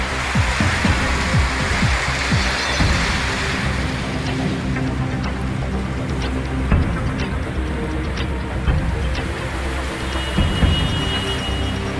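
Steady rain pours down with repeated cracks and rumbles of thunder, loud and close, with no voices.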